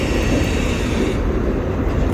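Freight train with tank cars rolling past at Slover Ave. in Colton, California, a steady, loud broadband rumble of wheels and cars running continuously and close by, with no voices.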